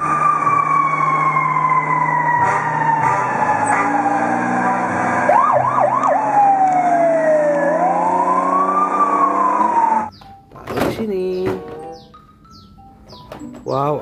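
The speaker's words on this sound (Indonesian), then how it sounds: "Wow, lihat teman-teman, ada mobil pemadam kebakaran teman-teman." A fire truck siren wails loudly, sweeping up and down in pitch over steady engine rumble, then cuts off into brief blasts and traffic noise.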